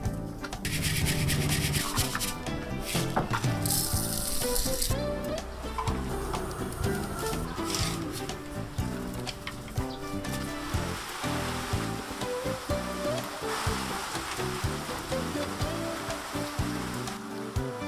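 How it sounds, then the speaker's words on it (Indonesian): Cornstarch porridge is stirred continuously in a kettle, a loud, dense scraping and rubbing that runs the whole time without any speech. "Kita harus terus mengaduknya agar tidak lengket di bagian bawah ketelnya."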